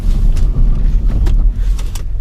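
A Volkswagen MK7 GTI with an APR Stage 2 tune braking hard downhill, engine rumbling steadily with low road noise throughout, a few brief higher squeaks and hisses, no voices.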